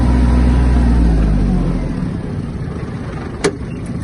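A Kubota KL-2450 hi-speed Japanese mini tractor drives in a high gear, its close engine drone fading down partway through, followed by a brief sharp knock near the end.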